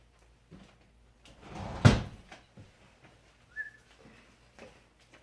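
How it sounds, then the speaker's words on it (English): A back door swings shut in a house with one sharp, close thud, preceded by soft rustling and followed by faint scattered knocks in a quiet room. "That's really scary because my back door is just slamming right now."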